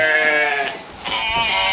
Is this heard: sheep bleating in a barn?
yes